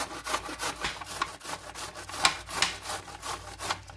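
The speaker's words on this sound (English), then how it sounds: "we're going to go ahead and grate our cabbage on the big side" Cabbage scraped across the coarse side of a box grater in quick rhythmic strokes, a close raspy shredding repeated about three times a second, with no voices.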